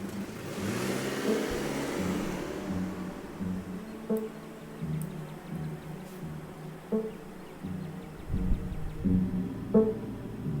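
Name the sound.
old BMW car driving, from a video game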